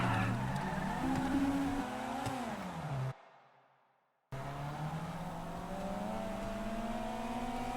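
Two identical cars race side by side from a standing start, engines revving hard and rising in pitch as they accelerate, with tire noise; a brief cut to near silence, then the loud engine drone resumes.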